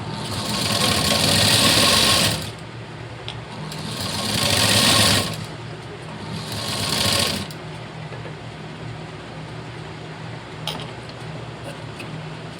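A sewing machine stitches a blouse hook strip in three loud running bursts of rapid mechanical whirring, each a couple of seconds long, followed by a quieter stretch with faint ticks.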